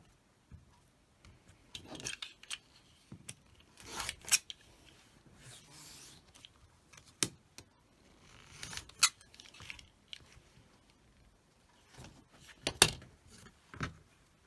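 A rotary or blade cutter slices through fabric along a ruler at a 45-degree diagonal, giving a series of short, quiet rasping strokes spaced out over the stretch with silence between them.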